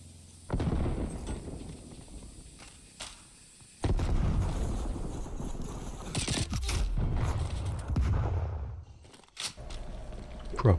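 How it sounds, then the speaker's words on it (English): Grenade blasts in a first-person shooter game, loud booming bursts with rumbling crunch and scattered gunfire-like cracks, filling the whole stretch with dense, close-sounding combat noise. "Throwing grenade."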